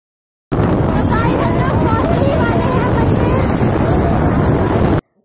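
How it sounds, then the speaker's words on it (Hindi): Steady, loud wind buffets the microphone for about five seconds, a dense rumbling roar while riding on a scooter along a road in Dehradun, nearly drowning out a voice. "यहाँ पे बहुत हवा चल रही है इसलिए हमारी आवाज क्लियर नहीं आ पा रही है"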